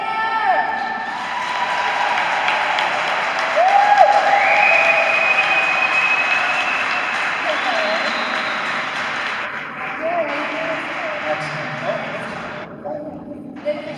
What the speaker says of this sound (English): I need a round of applause for Mr. William Fichtner!